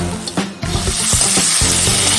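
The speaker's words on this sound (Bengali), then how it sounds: "বন্ধুরা দেখো আলুগুলি দিয়ে দিলাম করাতে" Potato pieces frying in hot oil in a wok, a close sizzle broken by repeated scraping and knocking strokes of a spoon stirring them, loud and busy throughout.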